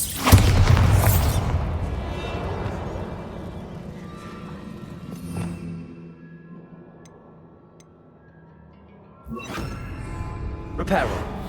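A Bombarda spell explosion in Hogwarts Legacy hits with a loud, deep boom and shattering crash, then decays into a long fading rumble, with another burst of impact near the end.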